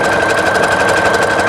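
A Brother CS-8150 sewing machine stitches with silver metallic thread in a loud, steady, rapid mechanical chatter with a constant motor whine, heard up close with no voices.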